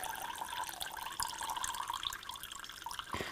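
Water is poured off rinsed tomato seeds, a faint, steady trickle and splash lasting a few seconds with no talking.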